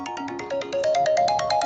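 A phone rings nearby with a bright electronic ringtone, a melodic run of rising tones that grows slightly louder, with no speech over it.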